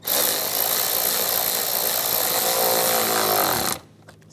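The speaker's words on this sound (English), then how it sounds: "Push this tube on. And tighten down the worm clamps." A power driver tightens a worm-gear hose clamp on an engine tube of a 2010-2016 Cadillac SRX, sounding as one loud, steady whir close up that lasts nearly four seconds and then stops abruptly, leaving a few faint clicks.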